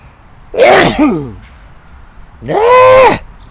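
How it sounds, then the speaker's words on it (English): A man sneezes twice during a live stream, each a loud close burst with a voiced, whinnying tail, the first split into two quick parts and the second sustained, with a quiet pause between them. "Uh-oh, sneeze coming up."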